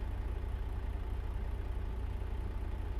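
A truck engine in American Truck Simulator running at a low steady idle, a continuous deep rumble with an even throb and no talk.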